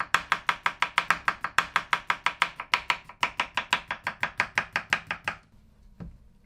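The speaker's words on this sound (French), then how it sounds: "Vous vous surprenez à hacher le concombre très rapidement." A knife rapidly chops cucumber on a cutting board, about five crisp cuts per second in an even rhythm, close and loud, then stops abruptly.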